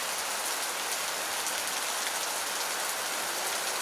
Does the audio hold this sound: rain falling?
yes